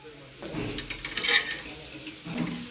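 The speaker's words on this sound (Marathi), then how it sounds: "थोडंसं तेल टाकून ते पण भाजायचं लालसर." Grated ingredients roasting in a little oil: a soft sizzle with scraping stirs in a pan, faint and close, bursts of stirring rising and falling, with low speech in the background.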